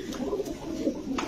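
A white racer pigeon coos in low, throaty pulses close by, repeated several times over a short span with faint background noise.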